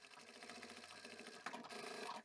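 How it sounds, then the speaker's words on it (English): A domestic sewing machine backstitches at the end of a seam on a simple zippered fabric pouch, giving a steady, close mechanical whir with a brief pause and restart as it reverses. "I like to backstitch a few times at the very end"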